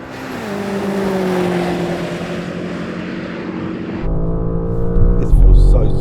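A BMW M5 accelerates hard in a drag race, its engine note rising steadily and loud with a sharp gear change partway through, followed by deeper droning and wind buffeting.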